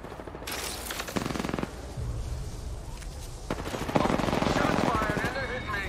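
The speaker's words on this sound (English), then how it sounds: "Shots fired and they're hitting me" Bursts of automatic gunfire in Apex Legends, rapid rattling volleys close by, starting and stopping in several runs over six seconds with a voice talking underneath.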